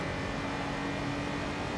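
A Suzuki Alto at Silverstone in Assetto Corsa accelerates under full throttle, giving a continuous, fairly quiet engine drone with a steady tonal whine and no breaks or voices.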